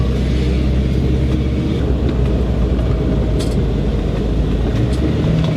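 A 1000hp Hummer H1 pulls away in low range, its engine a loud, steady low rumble with road and tire noise throughout, no talk.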